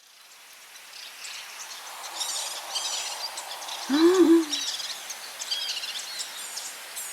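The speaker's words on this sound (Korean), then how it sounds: "새소리?" A single low hooting bird call rings out once, clear against a faint background chorus of insects and chirps.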